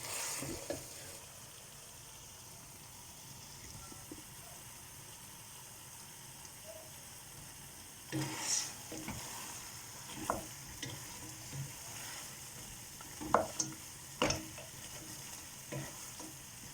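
A thick East African stew cooks in a pot with a faint, steady simmering sizzle, broken by occasional scraping and clinking as it is stirred, fairly quiet and without speech.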